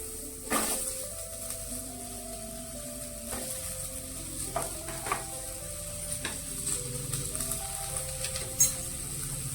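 Onion frying in oil in a pan for a tomato chutney, a steady close sizzle throughout with occasional scrapes and clinks of a stirring spoon against the pan.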